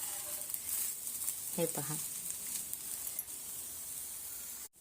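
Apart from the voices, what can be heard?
dosa frying on a pan over low gas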